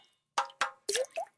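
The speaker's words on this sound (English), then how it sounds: "That's the sound of water coming from leaking pipes" Water drips from leaking pipes in a series of four distinct, close plops and drips spaced unevenly against near silence.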